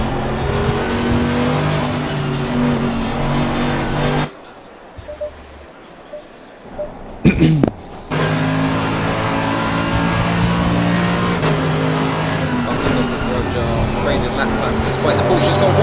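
GT3 race car engines in Assetto Corsa Competizione at Suzuka, a loud continuous roar with gear changes, dropping out briefly midway before resuming, under a commentator's talk.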